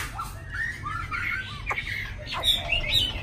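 A tame hwamei songbird (Chinese hwamei) sings clear, whistled phrases with rising and falling notes and quick chirps, fairly close, over a low steady background hum.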